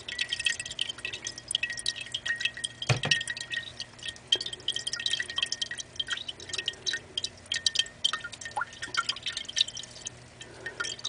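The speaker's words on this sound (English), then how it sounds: "You can hear it draining" Water drains from wet paper pulp, dripping and trickling steadily into a bowl, with a quiet patter of small drops and one louder knock early on.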